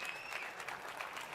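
A crowd at a live video game reveal event applauds steadily, a dense patter of many hands clapping at moderate volume, heard briefly and without pause.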